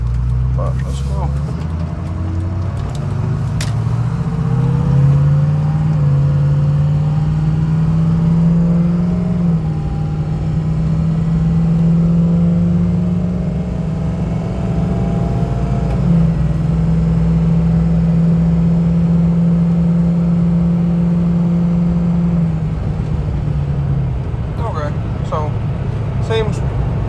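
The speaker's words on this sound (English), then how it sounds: "I'm not going to do any talking, I'm just going to let y'all listen" A Ford 6.0 Powerstroke diesel pickup on bigger wheels and tires drones loud and steady while driving, its engine note rising and falling through gentle acceleration and shifts with no talk.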